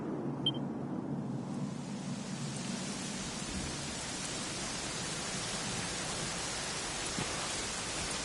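Steady rain pours down in Dragon Quest XI in a dense, even hiss, constant and fairly loud with no voices.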